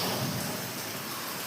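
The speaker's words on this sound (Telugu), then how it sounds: "ఫుల్ వర్షం పడుతుంది అసలు హైదరాబాద్లో అయితే" Heavy rain pours down steadily in Hyderabad as a dense, even hiss of falling water, close and unbroken, with no voices.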